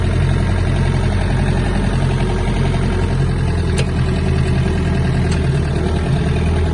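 Engine of a Mitsubishi MT-26 Japanese mini tractor while driving, a steady low diesel drone with mid-range clatter, close and constant with a couple of faint clicks.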